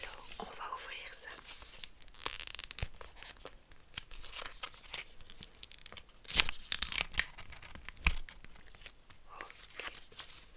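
A package wrapper is opened and torn in a quiet close-up setting, soft crinkling and rustling building to a few sharper tearing bursts, with faint whispered speech around the handling.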